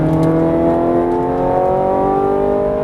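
A Ferrari 430 Scuderia engine pulls hard on a racing circuit, a loud, continuous, rising mechanical wail heard from inside the car, with steady harmonic tones climbing in pitch under full throttle.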